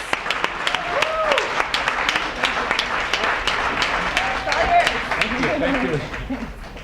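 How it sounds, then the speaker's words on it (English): Crowd applause fills a town hall on the Green New Deal in New York City, a steady, dense clapping that runs the whole stretch with voices and cheers mixed in. "let's give him a huge round of applause"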